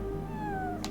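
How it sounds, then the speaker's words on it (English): In the Chrono Cross video game, a cat lets out one short, clear meow that slides downward in pitch over steady low background game music, ending with a brief soft burst. "That's a cat."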